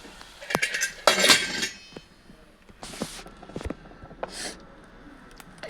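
A lid clanks and clinks onto a pan on the stove while spinach is being fried, with several sharp metallic knocks and rattles at close range.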